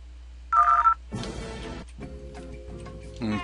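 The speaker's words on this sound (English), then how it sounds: "I need to use my phone without getting noticed." A phone is dialed in an indie video game as a short electronic tone beeps, followed by clattering and ticking game sounds and a steady hum, with no voices.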